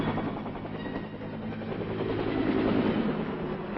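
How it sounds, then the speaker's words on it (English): US Army Huey helicopter flying in 1967 Vietnam-era footage, a continuous throbbing rotor drone with rapid chopping pulses, loud and steady throughout and building slightly toward the end, with no voices. "The Huey takes off like an angry hornet."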